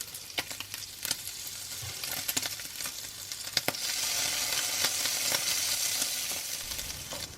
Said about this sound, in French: 3 tranches de bacon que je vais laisser griller.